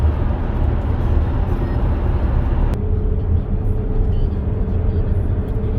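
A 2019 Volkswagen Tiguan on a test drive gives a steady, loud cabin drone of engine and road noise with a constant low rumble and no clear changes.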